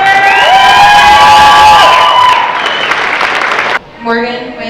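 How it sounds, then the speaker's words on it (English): Wedding guests applaud and cheer loudly, a dense crowd roar with whoops and high shouts over clapping that fades before a voice speaks over a lingering murmur. "One more time, big round of applause for Cindy."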